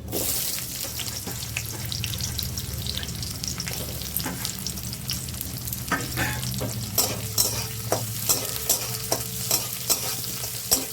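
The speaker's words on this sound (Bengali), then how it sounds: "পেঁয়াজটাকে ভালো করে লাল লাল করে ভেজে নেবো।" Chopped onions frying in a pan, a steady close sizzle with rhythmic stirring scrapes that grow sharper and more regular toward the end, with no talking.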